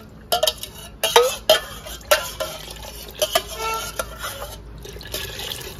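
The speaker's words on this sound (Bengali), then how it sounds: "এই বাটিটা ধুয়ে জলটা দিয়ে দেবো এখন" A bowl being rinsed and its water poured into a cooking pot, close clattering of the bowl with splashing and trickling water in short bursts.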